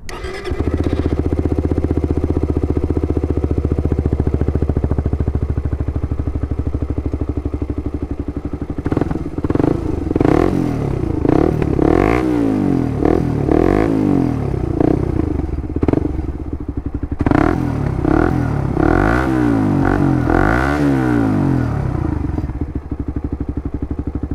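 A Suzuki GSX R150 motorcycle fitted with a Yoshimura GP-Magnum exhaust starts and idles with a steady, loud rumble, then revs repeatedly in bursts, nearby and with no talking.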